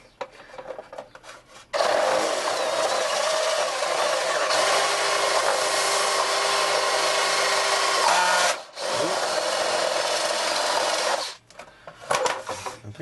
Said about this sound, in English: I got my step drill here